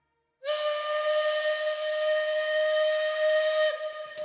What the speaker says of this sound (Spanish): el silbato de un tren